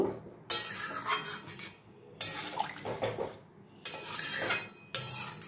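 Water being stirred into an aloo paneer curry in a pan, in four bursts of wet scraping and clattering from a spoon against the pan, close and fairly quiet, with short pauses between and no talk.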